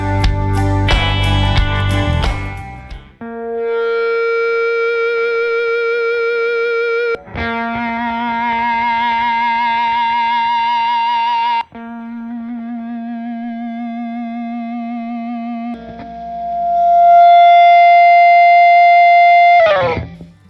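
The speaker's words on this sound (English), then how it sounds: "let's see how loud it needs to be for each guitar to get feedback going" Loud electric guitar amp feedback: a strummed burst gives way to long sustained howling tones that shift pitch and swell, cut by brief string noises.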